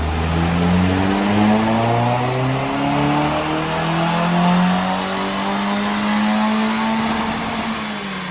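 A Mitsubishi Colt CZT with a hybrid-turbo 4G15 engine, 550cc injectors and an Ecutek remap does a dyno power run, its engine note climbing steadily and loudly through the revs before tailing off.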